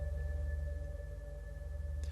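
Lingering reverb tail from the Maleventum 2 legato instrument section, a sustained low drone with steady tonal lines that hangs evenly, then a faint brighter flicker near the end, with no voices.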